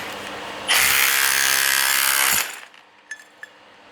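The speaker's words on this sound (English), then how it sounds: "Once it's underneath, it'll start vibrating and eventually lift that tile up." A power chisel vibrates beneath a cracked floor tile to lift it, giving a loud, steady buzzing roar for about two seconds before cutting off, followed by a few faint clicks.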